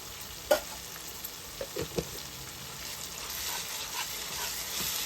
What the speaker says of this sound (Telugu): ఇది కూడా వేపుకోవాలి అల్లం వెల్లుల్లి పేస్ట్ వేసుకుని ఇలాగా ఒక నిమిషం మగ్గించుకున్న తర్వాత